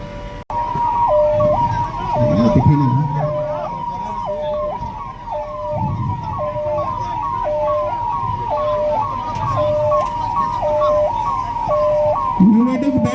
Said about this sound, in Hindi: एम्बुलेंस की गाड़ियां